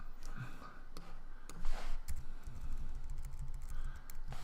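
Quick computer keyboard typing while entering demo text, a close run of light key clicks in an uneven rhythm, with a faint voice in the background.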